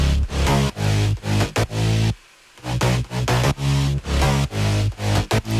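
A synth bass doubled by a sub-bass layer pumps in loud, rhythmic chopped notes with a short silent break partway through, deep and heavy, with no talking.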